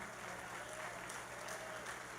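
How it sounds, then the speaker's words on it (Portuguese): A church congregation applauds a sister named Margarida, a steady, fairly faint wash of clapping that holds evenly for the whole moment with no voices on top. "Vamos aplaudir a irmã Margarida"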